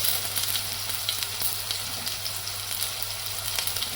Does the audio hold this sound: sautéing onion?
yes